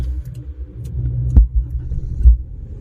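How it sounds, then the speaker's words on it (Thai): A Honda Civic engine turns over via a push start button, a close low rumble settling into idle with two soft thumps along the way. "สตาร์ทเครื่องยนต์นะคะ อย่าเบรกกดปุ่ม"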